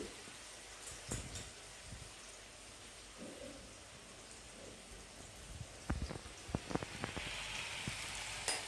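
Cumin crackling as it fries in a pan with a soft continuous sizzle, scattered sharp pops and spatters growing denser toward the end, heard fairly close with no talk.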